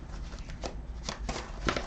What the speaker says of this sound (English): I'm shuffling them a few times before